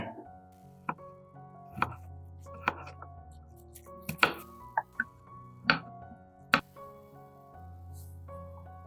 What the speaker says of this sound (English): Thinly sliced garlic.